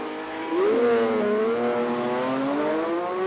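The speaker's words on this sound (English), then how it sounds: "The loud Porsches have gone through and certainly make a superb noise, don't they, as they roar away from the start line." Several Porsche cars, including 911 models and a 911 GT3, roar away from a rally stage start line at SS20 Wairoa, a loud sustained engine rising in pitch as one accelerates hard, close by and alone.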